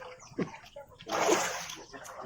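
A man jumps into water at a river resort, producing one loud, broad splash midway that washes off into sloshing, with voices talking before and after.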